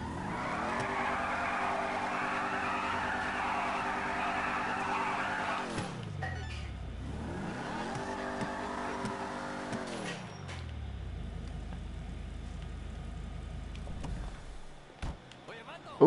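A car in GTA revs hard, tires screeching as it skids, with engine pitch sweeping down and climbing again twice before settling into a low idle rumble; close and loud, with occasional voices mixed in.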